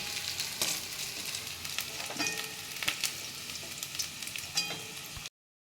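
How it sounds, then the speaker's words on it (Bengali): Cumin, whole garam masala and chilli hit hot oil in a pan that was just used for frying potatoes, giving a dense, crackling sizzle up close with scattered pops and stirring clicks and no voices, then sudden silence. "ওই তেলের মধ্যে আমি জিরে আর গোটা গরম মশলা, একটু লঙ্কা ফোড়নে দিয়ে দিলাম"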